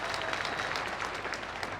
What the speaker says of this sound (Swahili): Pigieni makofi moja Kimani Ichung'wah.